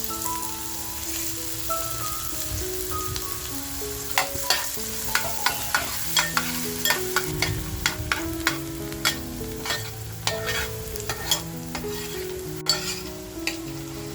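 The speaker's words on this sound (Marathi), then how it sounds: "जो कांदा कापून घेतला आहे ना तो कांदा टाकते तेलामध्ये" Chopped onion hits hot oil and sizzles at a low, steady level, with clicks and scrapes from stirring scattered throughout.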